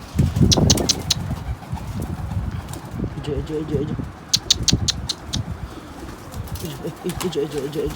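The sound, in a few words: pigeon cooing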